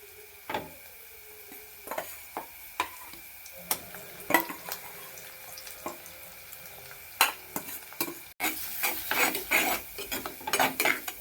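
Mashed boiled elephant foot yam is sautéed in a pan for a Kerala-style Onam sadya dish, with repeated scraping and knocking of a spatula against the pan over a soft sizzle, growing busier toward the end.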